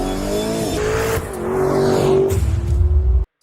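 A Mercedes-AMG F1 car with a Formula 1 engine screams loudly, its rising high-pitched engine tone sweeping upward before cutting out abruptly after about three seconds, with tire squeal and a heavy low rumble near the end.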